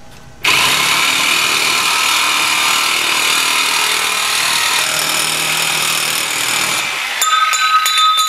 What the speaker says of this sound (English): So that trick definitely helps for getting nice straight cuts with just a hacksaw or something